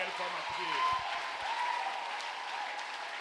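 A church congregation applauds and cheers in praise of the Lord, sustained dense clapping with a few voices calling out throughout.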